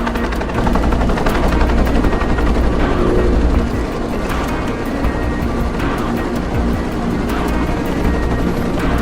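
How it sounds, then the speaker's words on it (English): Helicopter in the video game Tomb Raider Legend, a loud, continuous rotor chop and engine roar mixed with rapid mechanical rattling bursts that sound like gunfire, dense and close throughout. "Nishimura's got a chopper outside waiting for you."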